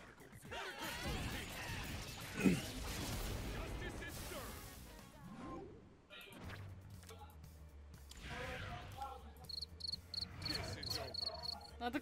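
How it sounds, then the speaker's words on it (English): An insistent cricket chirping sound effect rings out over a rumbling background in a voice chat, with occasional knocks and a few voices talking faintly underneath. "Not the crickets."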